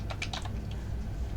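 Quick bursts of keystrokes on a computer keyboard while writing code, a cluster of light clicks at first, then sparser taps over a steady low hum, close and fairly quiet with no talking.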